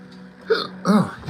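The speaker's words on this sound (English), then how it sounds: "Oh, hiccup, jeez." Two sharp hiccups from a person, close and loud, the second stronger than the first, with no talk around them.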